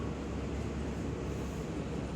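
A train pulls into a station in Japan, producing a dense, steady rumble and wheel roar that fills the space at close range, with no voices over it.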